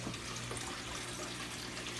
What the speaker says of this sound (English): And as the tank's being filled up with that water